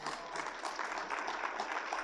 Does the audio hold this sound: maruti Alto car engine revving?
no